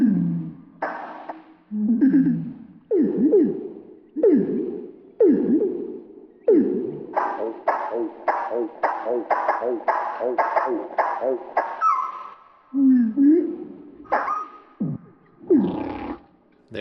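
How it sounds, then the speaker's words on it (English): A slowed-down nightingale song recording: a string of deep, drawn-out moaning swoops and pulsing phrases, resembling humpback whale song, loud and alone, quickening into rapid repeated notes near the end. "And here's the slowed down nightingale. It sounds quite a lot like a humpback whale."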